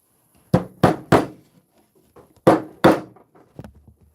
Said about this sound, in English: when you're banging sideways on a stud like this